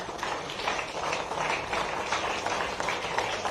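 Crowd applauds at a ceremony honouring a member of the Indian women's cricket team at the chief minister's residence, a continuous moderate wash of clapping from a gathered audience.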